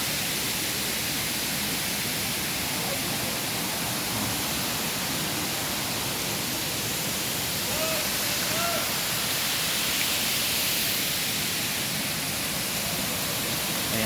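A natural waterfall on a clean stream pours in a steady, broad hiss of rushing water that fills the whole clip, with faint voices barely rising above it.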